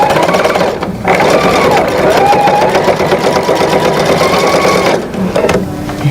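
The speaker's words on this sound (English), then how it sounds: "Make sure you backstitch." A sewing machine backstitches across a fabric bag in a loud, steady mechanical whir that runs almost without a break, with a short pause near the start and another near the end.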